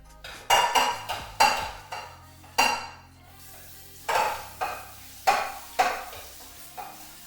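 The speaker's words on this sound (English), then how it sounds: "When I'm done with the dishes." Dishes being washed by hand: plates and cutlery clatter and clink in about a dozen sharp, close knocks at an irregular rhythm, each ringing briefly before fading, with no talking.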